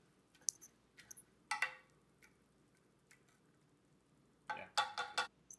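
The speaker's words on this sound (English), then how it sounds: "Next, smash it with a potato masher." Garlic and butter being smashed and mixed with a potato masher: a few soft, squishy clicks and taps, with a denser cluster of wet mashing hits near the end, fairly quiet with no talk.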